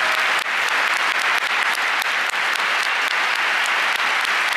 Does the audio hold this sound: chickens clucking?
no